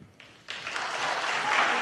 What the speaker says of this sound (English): Can we please hold the applause?